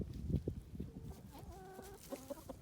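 Chickens cluck and murmur nearby as they dig and scratch through spread mulch, with short rhythmic clucking calls over faint low background noise, no talking.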